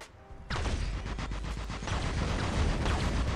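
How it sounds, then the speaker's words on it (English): Robot-mounted shotguns fire in a War Robots match on the test server, producing dense, loud, rapid blasts that begin abruptly after a brief quiet lead-in and continue without pause. "Doing some good damage with these shotguns."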